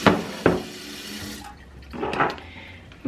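Warm water splashes and gurgles into a small bowl in a few short bursts, with quieter trickling between the pours and a brief splash at the end.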